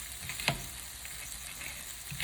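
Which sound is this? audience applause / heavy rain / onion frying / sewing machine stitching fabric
onion frying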